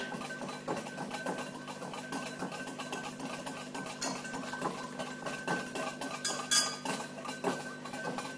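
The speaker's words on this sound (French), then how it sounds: "Donc vous mélangez comme ça pendant 2-3 minutes à peu près." Homemade face cream being stirred in a bowl, a steady run of small clinks and scrapes from the utensil against the container, close and fairly even throughout with no talking.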